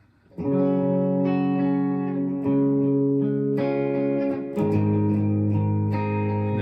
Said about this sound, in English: let the bass ring, and let that fair amount of reverb, and then some delay, and then a compressor